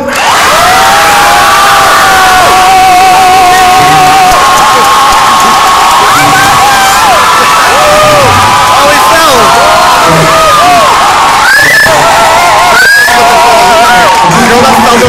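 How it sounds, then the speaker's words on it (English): A hypnotist show audience erupts in sustained loud cheering, screaming and clapping, a dense wall of crowd noise with shrill shouts and whistles rising through it the whole time. "you're going to hear the audience make a lot of noise like clapping, screaming, and applauding"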